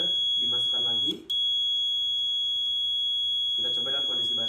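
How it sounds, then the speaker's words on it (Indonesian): An ESP32 smart plant-pot watering system's buzzer sounds a steady, piercing electronic tone as its water pump switches on, holding continuously with a brief dropout, while a person speaks over it. "Pompa akan menyala bersama dengan buzzer"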